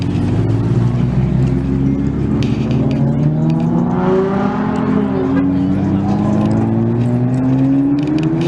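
A loud motor roars and revs continuously, pitch rising and falling in sweeps, with a rough, steady rumble throughout.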